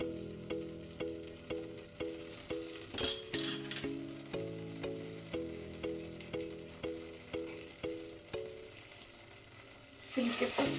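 Butter and vegetables fry in a small pot over a medium flame, making a steady sizzle with rhythmic scraping stirs about once a second and a few brighter bursts of hissing, all close and with no talk.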